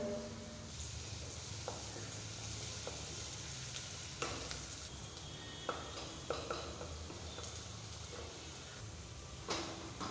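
Chopped ginger and garlic sizzle steadily in a hot pan for sweet corn soup, with occasional scraping and stirring clatters from a utensil breaking through the frying hiss.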